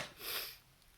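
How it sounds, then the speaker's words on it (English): One close, soft sniffle from a person with seasonal allergies, drawn in through the nose, followed by quiet. "The sniffles are my allergies."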